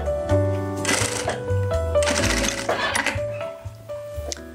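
Sewing machine stitching a seam closed on fabric for a Christmas bread and biscuit basket, running in bursts with rapid mechanical clatter and a few light clinks, fairly close and loud.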